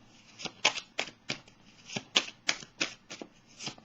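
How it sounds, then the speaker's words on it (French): Tarot cards being shuffled and drawn from a deck, a run of crisp, papery riffles and snaps repeating in quick bursts, close up and fairly quiet, with no voices. "On va piger une carte du jeu de Béline."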